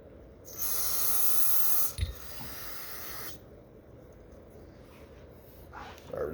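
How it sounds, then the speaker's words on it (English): Carb cleaner sprays in a loud, steady hiss for about a second and a half through the pilot jet of a pitbike that only runs on choke, then cuts off, leaving quieter handling noise. "And now we're going to top it off with carb cleaner."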